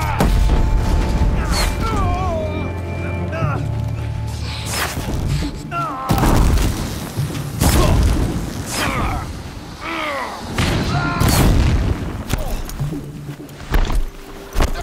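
Repeated heavy explosions and thuds from machine combat in Horizon Zero Dawn, several booming blasts spaced across the stretch amid whirring mechanical cries and a player talking over the action.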